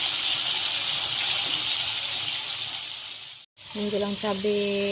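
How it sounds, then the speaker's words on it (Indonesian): Fish frying in oil over a small-to-medium flame for a sambal balado dish with jengkol and lemongrass, a steady dense sizzle throughout, briefly cut off, then resuming with a short electronic beep pattern over it. "Digoreng sampai kering ya, sampai garing gitu."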